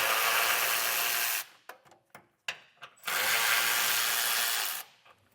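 Ratchet with a 12mm socket spinning out frame bolts that hold a factory jounce bumper on a 2024 truck, heard as two long, loud, steady runs of fast clicking separated by a gap of short scattered clicks and taps.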